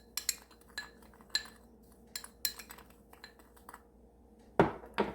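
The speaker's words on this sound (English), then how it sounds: "So I'm going to mix the seasonings together." Garlic powder and Italian seasoning being mixed in a bowl, with light clinks and taps of a utensil against the bowl in an uneven rhythm, close and fairly quiet.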